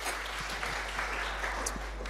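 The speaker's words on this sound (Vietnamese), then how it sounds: "Hãy vỗ tay cảm ơn Đức Chúa Trời." A church congregation applauds in thanks during a Protestant sermon. The clapping is moderate and steady, with a low steady hum underneath and no speech over it.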